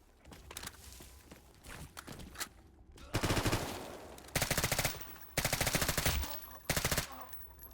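Forsaken P90 fire in S.T.A.L.K.E.R. GAMMA, several short, loud, rapid automatic bursts separated by pauses, with footsteps between them.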